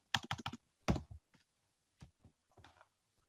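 Keys clatter on a computer keyboard as code is typed, a quick burst of several close clicks followed by a pause and then a few sparse, softer keystrokes, recorded up close with no talking.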